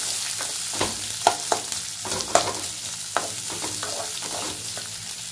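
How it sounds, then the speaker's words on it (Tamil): Onion and green chilli sautéing in oil for a Tamil potato poriyal: a steady close sizzle broken by repeated scraping stirs of a spoon in the pan, with no talking. "அதுக்கப்புறமா நம்ம கட் பண்ணி வச்சுக்கிற வெங்காயம் இதையும் சேர்த்துட்டு நல்லா வதக்கி விட்டுடலாம்."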